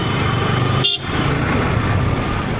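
Car horns honk amid a traffic jam in Satara, with a steady rumble of road traffic behind them. Sustained toots ring out over the engine noise, with a brief break about a third of the way through.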